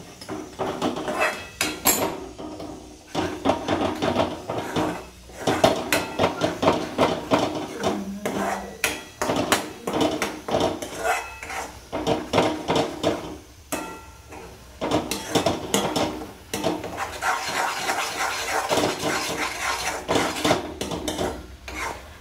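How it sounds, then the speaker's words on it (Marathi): A spoon scrapes and knocks against a pan while coconut halwa is stirred, steady close clattering and scraping in continuous rhythmic strokes with short pauses. "असं मस्त हलवून द्यायचं, हलवत राहायचं"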